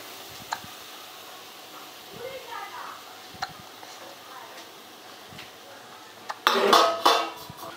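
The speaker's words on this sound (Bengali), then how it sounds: "ক্রমাগত আমি এইভাবে নাড়াচাড়া করে আটাটাকে ঘিয়ের সাথে মিশিয়ে ভেজে নেব" Wheat flour being stirred into melted ghee in a pan over low flame: soft scraping and clinks of a utensil against the pan, faint at first, then a louder burst of scraping and clatter near the end.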